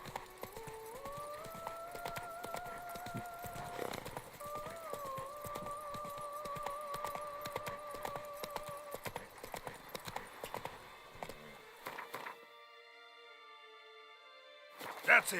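Roach, a horse in The Witcher 3, trots along a road in Toussaint, hooves clip-clopping in a steady rhythm over soft background music, then the hoofbeats fade near the end as a brief tone sounds.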